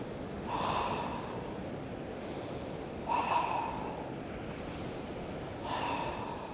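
Slow, deep breaths during a yoga twist pose on a beach at sunrise: three soft, close inhale-exhale swells spaced a couple of seconds apart, with no talking.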